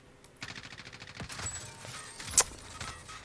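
Gunfire in Call of Duty Warzone, a rapid burst of shots followed by scattered single cracks and one sharp loud report, with no talking.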